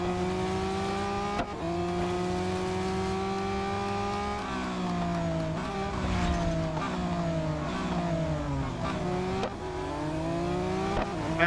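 Race car engines in the Real Racing 3 mobile game rev and rise in pitch through repeated gear shifts, loud and continuous, with no voices over them.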